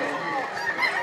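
Clucking and crowing-like calls from poultry at a Lipa, Batangas fighting-rooster sale, a continuous close, moderately loud vocalization with no clear talk over it.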